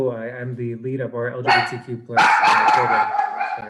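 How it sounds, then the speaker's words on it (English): A dog barks in the background of an online community meeting, its sharp yips breaking in over someone talking close to the microphone. "excuse my dog."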